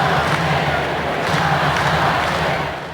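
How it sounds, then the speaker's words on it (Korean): Baseball stadium crowd roaring and chanting for a Korean infielder after a hit in a Major League game, a dense steady wall of many voices with rhythmic swells, loud and continuous throughout. "관중들이 김하성을 연호하는 가운데"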